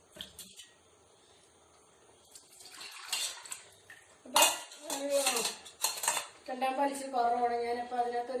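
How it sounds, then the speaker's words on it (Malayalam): Chicken stew stirred in a metal pot with milk poured in: spoon scrapes and clinks against the pot in bursts, with liquid sloshing, close and fairly quiet, while someone speaks over it. "ഇതൊന്നും ഇളക്കി യോജിപ്പിക്കട്ടെ ശകലം പാലും കൂടെ ഒഴിച്ചു കൊടുക്കാം"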